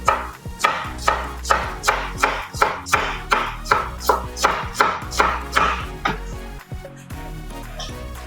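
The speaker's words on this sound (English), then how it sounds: "Just cut in half. Slice them." Knife chopping carrots on a cutting board, about a dozen crisp, evenly spaced strokes in a steady rhythm, close and distinct, with no voices over it.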